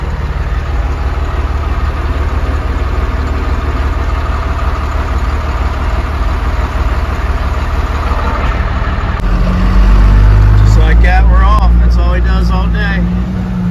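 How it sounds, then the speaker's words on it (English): A semi truck loaded with sand idles near a scale, then its engine swells louder and heavier as it pulls past up close, with a voice heard during the pass. "There goes the loaded semi."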